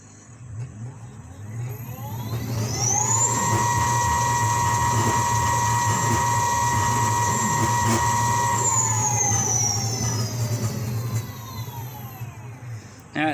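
An E Vader electric motorcycle with a Votol controller winds up under a speed test, its motor whine climbing steeply in pitch, holding a steady high tone for several seconds, then falling as it slows, loud and close.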